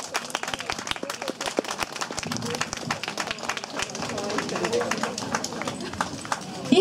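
Audience clapping at an outdoor samurai-troupe performance in a town plaza, a dense sustained patter of many hands with sharp individual claps standing out, continuing steadily for several seconds before a louder burst at the end.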